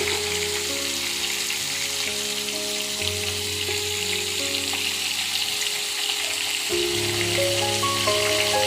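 Pointed gourds (potol) fry in hot oil in a pan, giving a steady, close sizzle that runs throughout, with a low tonal hum underneath.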